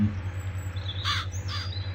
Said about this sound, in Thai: พร้อมกับอีกาตัวหนึ่ง อ้าวบินแล้ว